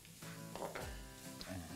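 Coriander root and garlic stir-frying in rendered pork belly fat, a steady close sizzle with stirring clatter and a few louder bursts throughout.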